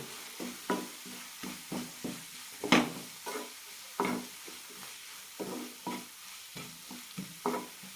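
Sesame seeds and chilli powder dry-roasting in a pan, heard as a steady run of short scraping stir strokes at an even rhythm, close and fairly quiet, with a faint crackle between them and no voices.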